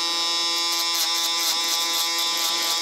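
Babyliss double-edged electric shaver running steadily on South East Asian hair during a barber's fade, a close continuous high buzz with slight rhythmic variation as it passes over the head, no talking.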